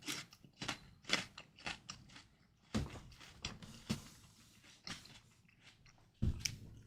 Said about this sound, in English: Hold on, I'm eating a pear.